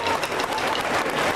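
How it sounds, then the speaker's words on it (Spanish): Loud, dense applause from an audience at a community celebration, steady close clapping filling the whole moment. "¡Aplauso fuerte!"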